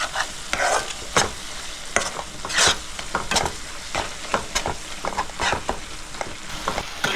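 Spice masala frying in oil on a high flame for a pangas fish tel jhal: a dense, crackling sizzle broken by frequent sharp scrapes and clacks of the spoon stirring the pan, close and continuous with no talking.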